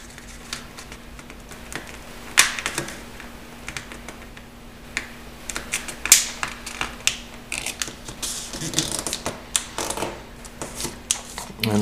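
Paper being creased and folded in half while making an origami polar bear, a series of close, crisp crinkles and sharp taps that grow busier toward the end.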